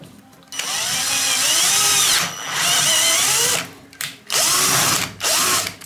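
A power drill bores screw holes for the rollers of a sliding shower door. Loud, close, whining bursts rise and fall in speed, with two brief pauses and quick restarts near the end.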